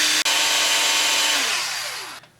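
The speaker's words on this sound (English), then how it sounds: "Drill our hole." A loud, steady whine of a power drill running close by for about two seconds, dropping in pitch as it slows before stopping.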